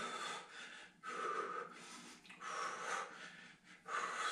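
Heavy rhythmic breathing during a Taïso workout, repeated noisy inhales and exhales in steady cycles of about a second, fairly close and moderately quiet, with no speech over it.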